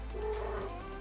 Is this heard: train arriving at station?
no